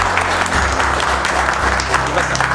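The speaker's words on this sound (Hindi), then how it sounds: "एक बार जोरदार ताली कर दो सर।" A classroom audience of students at a mobile phone repair training session claps loudly and steadily, dense applause filling the space throughout.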